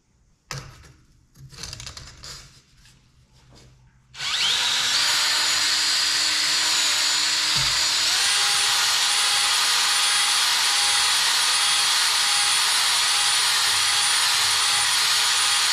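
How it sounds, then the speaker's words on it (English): A Farmall 460 tractor engine cylinder being honed: after a few seconds of scattered clanks and handling, a loud high-pitched drill whine starts abruptly and runs steadily to the end, alone and close. "let's jump into it and start honing these cylinders."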